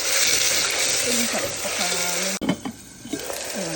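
Green beans and vegetables with salt being stirred in a frying pan, a steady sizzle with scraping stir sounds that pause briefly partway through, then resume more softly.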